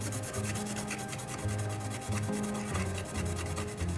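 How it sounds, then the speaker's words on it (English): Green 3M Scotch-Brite pad scrubbing copper contacts clean on a 1974 Williams pinball stepper unit, a close rapid rhythmic rubbing that repeats steadily throughout. "We're going to clean this off. This is just green 3M Scotch-Brite."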